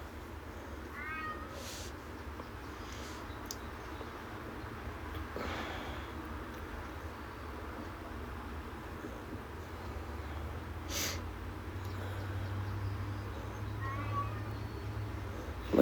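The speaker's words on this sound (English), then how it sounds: "Oh my gosh, my cat." A pet cat meows indoors several times, the faint cries rising out of a steady room hum, with no talk over them.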